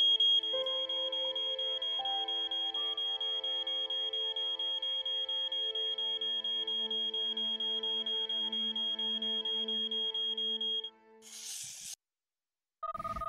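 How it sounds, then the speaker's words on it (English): A household smoke alarm sounds a steady, piercing high-pitched electronic tone for about eleven seconds, then breaks off into a short burst of hissing noise and falls silent. "Now the smoke has set the smoke alarm off."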